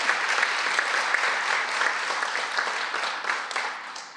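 An audience at a Chesapeake Executive Council meeting applauds steadily, a dense, even wash of many hands clapping at moderate loudness with no voices on top.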